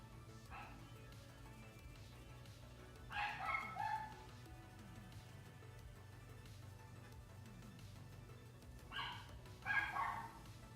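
A pet dog barks indoors in a few short bursts, moderately near, separated by quiet stretches of low room hum.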